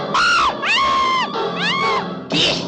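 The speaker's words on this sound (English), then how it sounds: "And now the screaming starts." People scream in several loud, drawn-out wails with short gaps between, shrill and close, in a haunted-house horror special.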